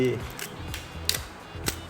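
Shutter of an Olympus OM-2 film camera firing at several speeds, a few sharp mechanical clicks spaced across the moment, close and crisp, with faint voice and handling noise in between.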